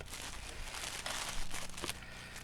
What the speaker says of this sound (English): put it up here so they can see what you unwrap